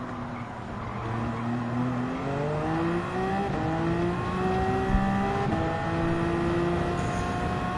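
Gr.1 Hybrid race car in Gran Turismo 7 racing near other cars, its engine note climbing steadily through gear changes with layered rising whines from several nearby engines, continuous and loud with faint tire noise.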